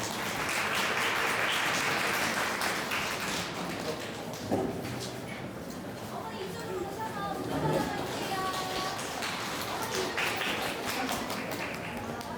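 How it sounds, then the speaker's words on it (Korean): An audience at an academy opening information session applauds to welcome a speaker, a steady clapping wash with scattered taps and knocks, and voices speaking partway through. "큰 박수로 맞이해 주시길 바랍니다"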